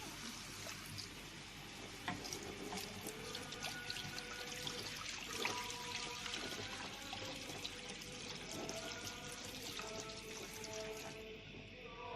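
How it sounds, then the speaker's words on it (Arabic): Water poured over a small heap of spices while making dakka sauce for Egyptian koshari, a steady trickling pour with faint sizzling texture running continuously at low level, no voices. "وهنزل بقى عليهم بشويه ميه"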